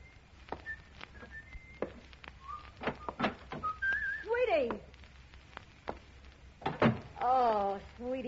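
A person whistles short, clear notes and brief phrases, with voices and soft thumps around them.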